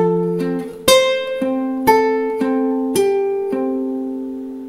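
Fingerstyle acoustic guitar plays measure 16 of a Kung Fu Panda piece, a slow run of plucked single notes over a sustained low bass, each attack ringing out clearly and alone, with no voices.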